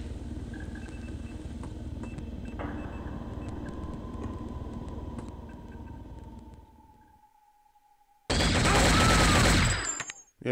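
Gunfire and mechanical game noise from the mecha shooter Shogo: Mobile Armor Division rumble steadily for several seconds, then fade to near silence before a sudden, very loud burst of shots cuts in near the end.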